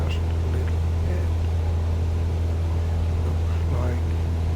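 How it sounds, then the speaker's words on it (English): Simulated single piston aircraft engine in MSFS 2024 being leaned in flight over Papua New Guinea, a steady loud droning hum that holds constant throughout, with faint talk over it. "I'm leaning the engine again, just a little bit."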